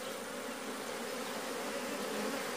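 Honey bees buzz in a dense, steady drone close by as a beehive is opened for inspection, with no voices over the constant swarm hum.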